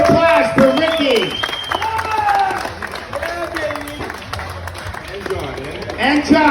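Applause and cheering from a crowd honoring winners at the London Ribfest, clapping sustained beneath a loud voice speaking over it, with bursts of crowd noise rising near the end.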